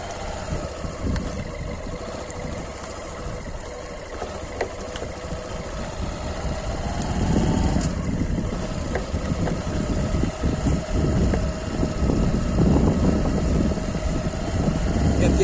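Motorcycle engine running on a slow downhill ride, a constant rough mid-level drone with faint knocking vibration and wind, swelling a little louder in the second half.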